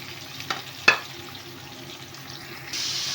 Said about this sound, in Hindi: अब इस तेल में जिसमें हमने भिंडी फ्राई की थी प्याज ऐड कर देंगे